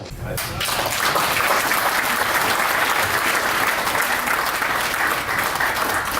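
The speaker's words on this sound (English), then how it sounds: "So if you all give a round of applause for Bob Long, I appreciate it." An audience at a gathering of retired news people gives a round of applause, a brief voice at the start giving way to full, even clapping that stays strong and steady to the end.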